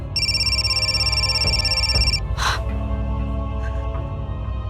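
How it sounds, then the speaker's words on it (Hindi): A telephone rings with a steady, bright electronic tone for about two seconds and then stops, loud and close over a low background hum; a brief breathy gasp follows. "कौशिक, मैं कब से फोन कर रही हूँ, फोन क्यों नहीं उठा रहे थे?"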